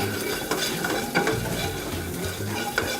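Steady crackling sizzle of shallots and garlic frying in hot oil, with occasional soft scrapes and stirring clinks of a utensil against the pan.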